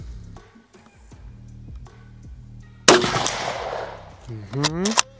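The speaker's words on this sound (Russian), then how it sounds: "Следующий выстрел." Quiet background, then one loud rifle shot bursts out with a rolling echo that decays over a couple of seconds.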